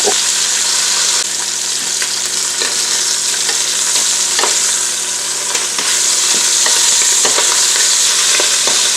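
Chicken pieces frying in oil in a pot give off a loud, continuous sizzling hiss with scattered crackles and pops. The sound stays steady and close throughout, with no speech.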